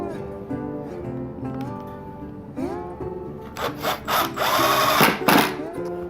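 Power drill driving screws into a wooden tapering jig, rising whirring pitch sweeps followed by a loud burst of grinding, rasping bites as the screws seat, close and alone.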